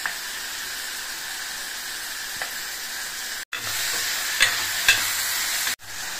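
Two bunches of washed fenugreek leaves fry in oil with a continuous close sizzle and hiss, interrupted by a couple of abrupt cuts and some light stirring taps.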